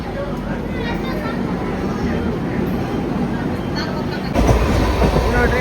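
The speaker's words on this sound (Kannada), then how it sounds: "ಈಗ ಟ್ರೈನು ಬಿಡ್ತ್ರಿಪ್ಪ" A departing train rumbles steadily with a loud, continuous low roar and rattling, growing a bit heavier near the end, with voices murmuring underneath.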